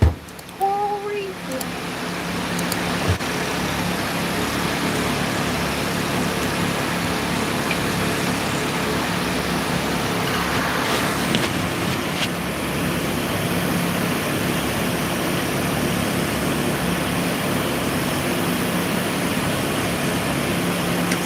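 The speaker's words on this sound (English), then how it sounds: "I think the noise you hear is a fan." An electric cooling fan blows steadily aboard a boat beached on a coral reef in Papua New Guinea, a broad, constant rushing whoosh close by that never lets up, with a brief faint voice near the start.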